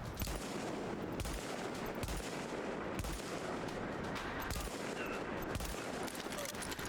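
Sustained gunfire in Tom Clancy's The Division, a loud dense stream of shots with heavy thumps landing in a steady rhythm about every second, close and continuous throughout.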